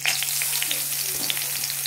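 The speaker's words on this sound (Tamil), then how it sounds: "ஃப்ரெண்ட்ஸ் போட்டு நல்லா சாட்டே பண்ணுங்க." Onion sautéed with dals and red chilli sizzles and crackles steadily in a hot pan, a continuous close frying hiss with light scattered pops and an occasional soft stir.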